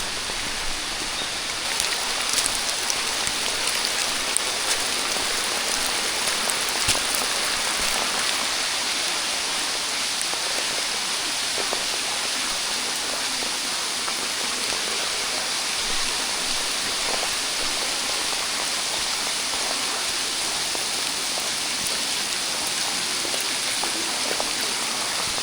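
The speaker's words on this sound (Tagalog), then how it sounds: "ang lakas ng ulan" Heavy rain pours without a break at the Papaya River campsite on Tarak Ridge, a dense, loud, even hiss of drops striking surfaces all around for the whole stretch, with no voices.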